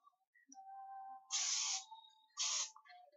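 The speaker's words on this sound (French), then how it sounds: "on va répartir la laque, surtout à la racine" Hairspray is sprayed onto the hair roots in two short hissing bursts, close and bright, with faint handling sounds in between.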